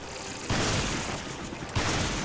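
Gunfire in Resident Evil 5 Mercenaries mode, dense loud game audio with two heavy blasts about a second apart over a constant roar of action noise.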